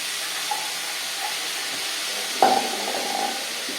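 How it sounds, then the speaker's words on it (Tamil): Ingredients for chapati dal sautéing in a pan on the stove, a steady soft sizzle and hiss with a brief louder crackle midway, close and without talk. "இது நல்லா வதங்கி வரட்டும்"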